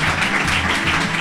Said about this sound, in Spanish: Un aplauso a Julia Andrino.